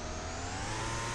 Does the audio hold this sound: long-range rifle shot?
no